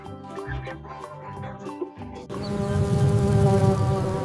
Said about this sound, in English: This is a bee.